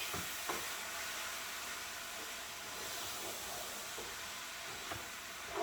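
Chilli being stirred in a pan, with faint scraping strokes against a steady sizzle and frying hiss throughout, close and quiet, with no one talking.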